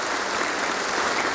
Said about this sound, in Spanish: La despedida fue con aplausos de los presentes.